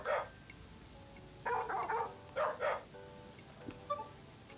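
Virtual husky puppies in the Nintendogs + Cats video game give a few short yappy barks in quick bursts, with quiet gaps between them and faint game sounds in the background.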